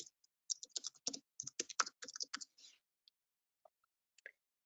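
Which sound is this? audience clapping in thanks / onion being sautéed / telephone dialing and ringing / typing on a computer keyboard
typing on a computer keyboard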